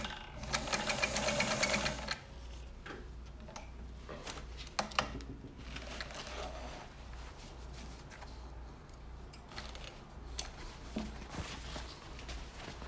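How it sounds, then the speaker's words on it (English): A restored 1960s Kenmore 158.1752 sewing machine zigzag stitches over canvas and nylon webbing, a loud rapid burst at first, then a steadier rhythmic chatter with occasional clicks, close up and without talk. "let's watch the machine do its thing. Again, it's going to be zigzagging over the canvas and the webbing."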